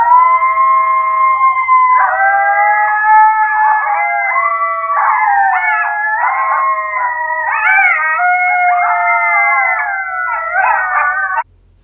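A Primos Dogg Catcher electronic predator call plays realistic canine howls and yips, a loud, steady stream of rising and wavering dog-like cries that lasts several seconds and then cuts off abruptly, with no voices over it.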